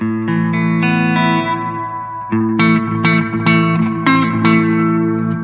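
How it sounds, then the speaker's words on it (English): Sustained, distorted instrument tones run through a GURUS Echosex 2° T7E tape echo, ringing out and smearing into repeating echoes, with stacked decaying repeats and high feedback building up a dense wash. "This is the kind of reverb."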